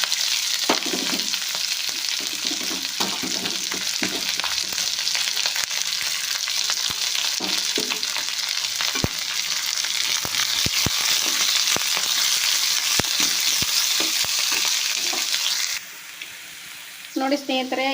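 Onion sizzles loudly and without a break in hot oil with cumin and mustard seeds, with scattered pops and stirring scrapes throughout, and a short voice near the end.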